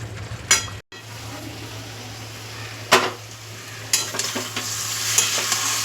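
Spice masala scraped and stirred in a hot pan over raised heat for a sweetened curry with yogurt to follow, giving a steady close sizzle with scraping strokes of a spatula and a brief pause.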